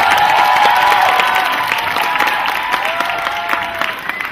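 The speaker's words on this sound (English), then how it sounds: "With a big round of applause." Audience applause welcomes two high school student presenters at a regional academic conference keynote, a dense steady clapping that stays loud throughout and fades slightly toward the end, with no talk over it.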